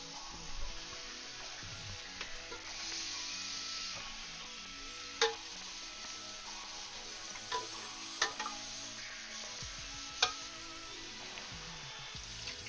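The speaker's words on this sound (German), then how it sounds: "ich lasse jetzt hier den Bacon quasi so in der Pfanne, ohne dass ich da noch irgendwie was dazu gemacht habe" Bacon sizzling in a frying pan, a steady quiet crackle and hiss with a few sharper pops and spatters scattered through.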